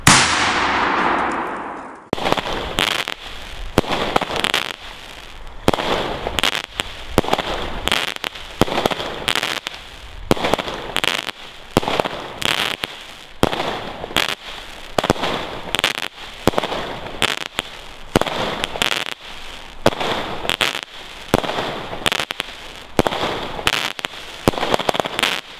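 A Tristan firework battery of 19 shots at 20 mm calibre launches a steady series of sharp bangs, roughly one every second, after a short hissing ignition, with crackling bursts filling the gaps.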